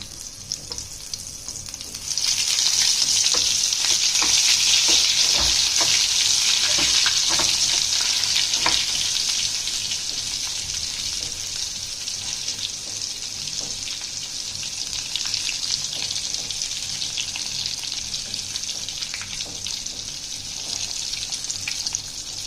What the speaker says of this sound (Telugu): కొంచెం తక్కువ ఫ్లేమ్లో పెట్టుకొని వేయించుకోవాలి, లేదంటే లోపల ఉడకకముందే పైన మాడిపోయే ఛాన్స్ ఉంటుంది అన్నమాట.